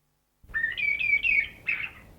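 A thrush sings a short, clear phrase of rising and wavering whistled notes, then a brief second call, close and alone against silence.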